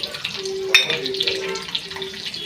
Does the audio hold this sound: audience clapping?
no